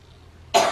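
A single sudden, harsh cough bursts out close and loud after a moment of near silence.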